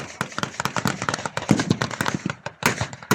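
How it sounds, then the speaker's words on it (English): Machine guns mounted on vehicles fire into trenches during a WWII reenactment show in Cosby, a rapid crackle of close, sharp reports in quick succession with no talking. "All the machine guns on the vehicles opening up into the trenches."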